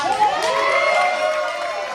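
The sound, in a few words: wrestling crowd cheering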